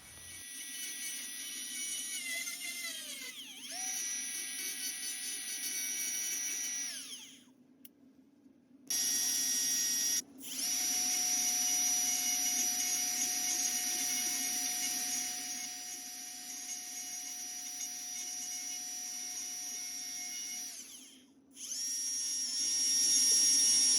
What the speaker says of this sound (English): I switched over to this metal cutting burr.